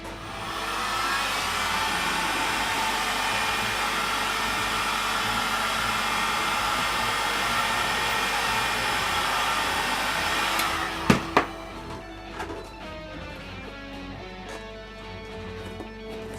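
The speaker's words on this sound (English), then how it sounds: "the easy way to do that is with a heat gun" A heat gun blows a steady, loud hiss of hot air to soften tape adhesive on craft foam, running continuously for about ten seconds before cutting off, followed by a few close clicks and handling sounds.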